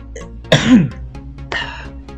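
Two short, sharp bursts, a sneeze followed by a second explosive exhale, close by and otherwise quiet.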